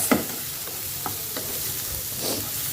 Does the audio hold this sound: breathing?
no